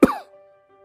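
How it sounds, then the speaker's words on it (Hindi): A single light cough, short and close, with a brief tonal ring fading after it; nothing else follows. "दूसरी तरफ से हल्का सा खांसता है"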